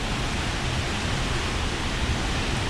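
Ozone Falls in Tennessee, a heavily flowing waterfall, gives a steady, dense roaring rush that stays unchanged and loud throughout, with no voices.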